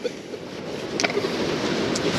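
Ocean waves breaking on an Australian beach, a steady broadband wash of surf close behind, with a few brief brighter splashes over the continuous roar.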